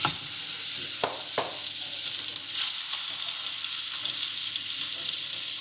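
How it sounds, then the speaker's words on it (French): Ground beef steaks sizzle steadily in a hot pan, a dense even frying hiss with a few soft clicks and scrapes of stirring, close and continuous with no voices. "le U il est en train de nous foutre des méchants steaks hachés, regardez-moi ça"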